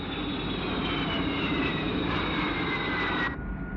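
A jet aircraft engine roars steadily and loudly throughout, a dense, constant rush with no voices, then dips slightly near the end.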